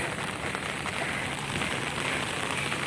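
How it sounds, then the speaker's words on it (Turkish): Heavy rain pours down steadily in a dense, hissing wash of drops striking surfaces on the Izmir seafront, constant and close. "Ama o kadar çok yağmur yağıyor ki"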